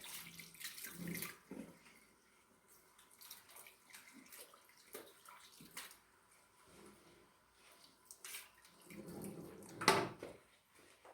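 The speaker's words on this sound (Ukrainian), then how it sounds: "ми змиваємо його з волосся теплою протічною водою" Warm running water rinses hair, splashing softly, with scattered drips and rinsing sounds, fairly quiet and close.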